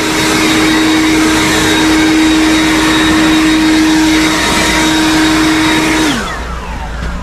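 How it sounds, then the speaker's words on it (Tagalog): A loud, steady snow blower motor roar with a constant whine drones for several seconds while clearing thick snow in Edmonton, Alberta, then winds down as the engine eases off. "Tingnan natin kung kaya ng snow blower natin ano."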